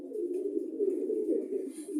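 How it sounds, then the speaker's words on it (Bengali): Pigeons in a coop partly covered with cloth against the wind coo continuously, a low, close, steady warble throughout. "এই দেখেন কবুতরের অবস্থা"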